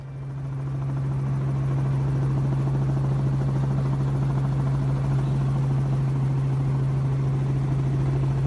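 A tour helicopter drones steadily overhead near the Columbia Glacier, its deep rotor hum constant and fairly loud throughout with no talking.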